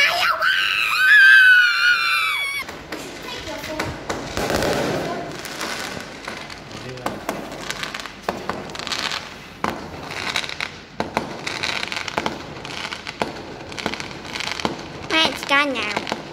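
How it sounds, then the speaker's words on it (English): Chinese New Year fireworks bursting in a dense, continuous barrage of crackles and bangs, loud and sustained, with screaming and voices mixed in near the start. "More fireworks!"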